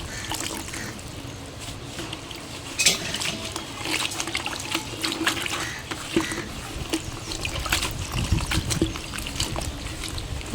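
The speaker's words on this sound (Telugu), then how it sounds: "మునగాకు మీరు ఎంత కడిగినా అలా వాటర్ అయితే అసలు పట్టదండి" Water runs and trickles steadily while drumstick (moringa) leaves are washed, with light splashes and a few sharper drips throughout; no one speaks.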